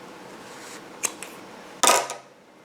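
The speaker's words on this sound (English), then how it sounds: "I'm going to go ahead and cut my loose yarn ends" Scissors snip loose yarn ends at a crochet project on a table, giving a couple of faint clicks and then one sharper, louder cut in an otherwise quiet room.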